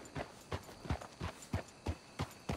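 Horses clip-clopping in the video game Red Dead Redemption 2, a steady run of about eight hoof strikes at a walking pace, moderately close and alone with no talk.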